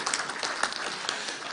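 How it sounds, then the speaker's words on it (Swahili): A church congregation at a funeral in Nyeri gives a brief round of applause, a short, fairly faint spatter of clapping heard from a distance. "Tupigie kanisa makofi tafadhali."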